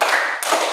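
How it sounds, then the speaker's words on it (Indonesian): Schoolchildren in a classroom clap hands together in a counted rhythm, a dense burst of claps with a brief gap and a sharp new clap near the middle, close and fairly loud. "Tepuk 1, tepuk 2, tepuk 3,"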